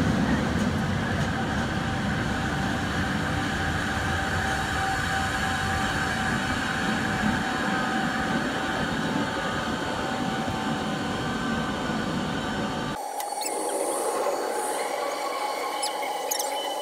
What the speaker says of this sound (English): So here's my LRT.